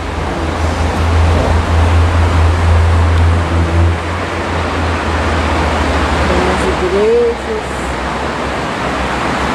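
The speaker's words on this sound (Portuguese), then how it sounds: "Lá embaixo tem uma cachoeira lá embaixo, ó." A waterfall below the city of Lamego, Portugal, gives a steady, broad rushing roar that fills the scene, with people talking faintly over it.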